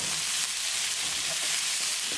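Onion and green chili sizzle and fry in a pan as they are stirred, a continuous bright hiss that stays steady and close throughout.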